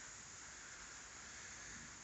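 Light rain falls steadily on a roof, a faint, even hiss with no breaks and no voices.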